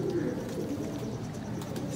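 A pigeon coos low and soft, close by, against a muffled background hum.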